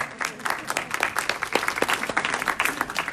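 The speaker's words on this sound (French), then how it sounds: "Applaudissements pour Hélène." An audience at a live education event applauds Hélène with brief, moderately loud clapping, many separate hand claps in an uneven patter from a modest crowd.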